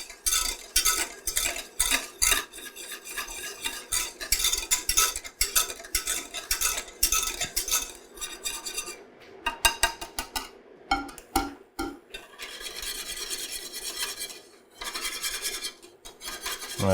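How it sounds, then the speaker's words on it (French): Wire whisk stirring milk in a pan, brisk rapid scraping and clinking strokes coming in quick rhythmic bursts, close and alone with brief pauses. "j'en profite aussi pour nettoyer un petit peu mon fouet dans le lait"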